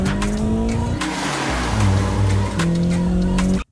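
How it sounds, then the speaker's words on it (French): Car engine sound effects dubbed over a film car scene, with loud sustained engine drones shifting pitch, squealing tires and revving, ending abruptly. "on a ajouté des bruits de moteur en plus"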